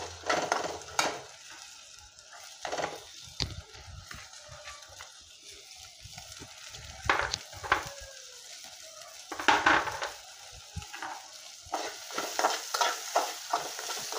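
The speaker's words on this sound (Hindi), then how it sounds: "ये देखिए इसको अच्छे से चलाते हुए" Masala frying and being stirred in a pan for a semolina breakfast dish, with scraping strokes and soft sizzle in irregular bursts, close by and with no talking.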